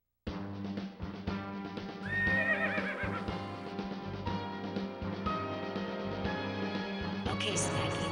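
A horse neighs and whinnies several times over steady background music, the cries rising and falling in pitch, with no one speaking.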